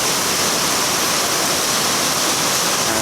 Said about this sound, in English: And the rain, concentrated rain flow from the roof,